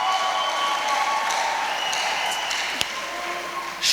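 A church congregation bursts into sustained applause, a broad, even roar of many hands clapping that holds steady throughout, with one sharper clap standing out near the end.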